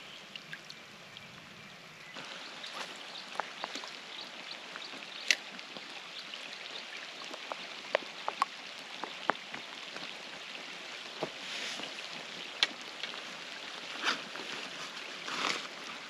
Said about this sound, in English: So here comes the rain again.